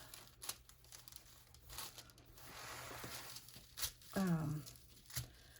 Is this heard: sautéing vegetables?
no